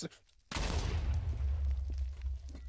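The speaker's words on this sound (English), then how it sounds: "That was a fairly sizable explosion." A skill in the video game Tensura sets off a sudden loud explosion, a sharp onset followed by a long rumbling, crackling roar that fills the rest of the moment.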